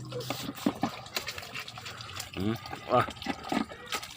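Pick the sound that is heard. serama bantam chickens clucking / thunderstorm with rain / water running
water running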